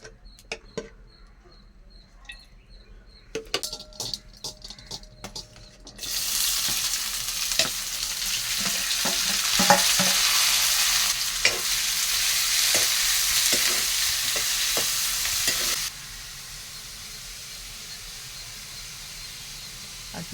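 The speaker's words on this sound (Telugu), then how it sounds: "కట్ చేసే ముందు ఉల్లిపాయలు అయితే వేగుతాయి కదా ఈ లోపలనే" Onions frying in a pan on a home stove, a loud steady sizzle that swells after a few seconds of quieter clinking and holds for about ten seconds before easing to a softer hiss.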